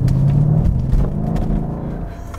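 A Mercedes-Benz E63 AMG wagon's engine rumbles low and steady while driving, a deep throaty drone heard from inside the car, fairly loud and fading slightly toward the end.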